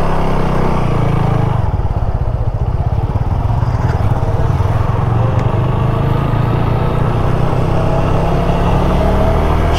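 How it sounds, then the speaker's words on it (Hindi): Dominar 400, R15M and Apache 200 motorcycles ridden at full throttle, a loud, continuous engine roar with rattling texture and wind rush, close and unbroken for the whole stretch. "तो अभी हम आ गए हैं बाइक पे और बाइक को फुल फॉर्म में भगाएंगे, एकदम पोटेंशियल से इसको चेक करेंगे।"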